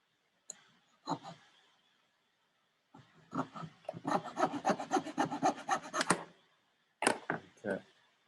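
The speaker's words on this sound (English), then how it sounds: "I'm just going to cut this one straight." A hand saw cuts a wooden boat frame piece straight across, with a few short scraping strokes followed by a sustained run of rapid back-and-forth rasping, then a couple more brief strokes, all close and fairly quiet.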